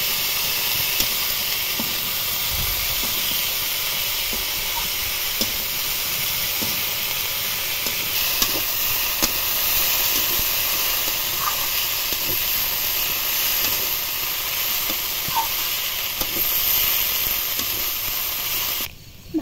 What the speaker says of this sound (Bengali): স্বাদ মতো লবণ দেব, হলুদ গুঁড়ো, কাঁঠাল দানাগুলো ভালোভাবে কষিয়ে নেব।